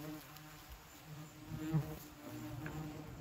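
Hornets swarm around a nest freshly sprayed with foam, a steady buzzing drone of many insects close by with individual wingbeats rising and passing near.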